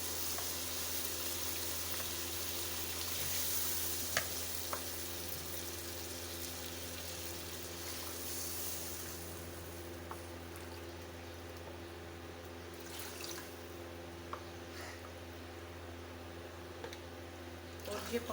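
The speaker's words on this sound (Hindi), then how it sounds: "अब इसमें मैं पानी डालूंगी।" Water poured into a pan of frying chickpeas for chana pulao, a broad rushing splash and sizzle that stays steady and then gradually softens, with a few faint clinks near the end.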